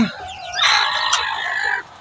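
Broody hens being set to brood clucking and squawking close by, a busy burst of calls that rises, holds for over a second, then cuts off.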